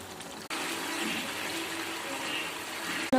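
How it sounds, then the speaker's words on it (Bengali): Hot water poured into chicken kosha cooking in a pot, a steady rushing splash that starts abruptly with a knock and runs for a few seconds before ending in a sharp clatter. "এবারে গরম জল করে রেখেছি, গরম জলটা দিয়ে দেবো।"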